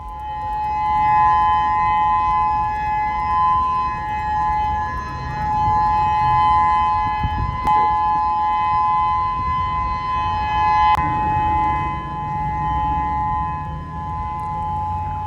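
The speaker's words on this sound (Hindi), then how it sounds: "और जैसे ही सुनामी के अलर्ट का सायरन बजा," A civil defense siren sounding a tsunami alert in Honolulu, Hawaii, a loud steady wailing tone that holds for the whole span with little variation, set over a rumbling outdoor background.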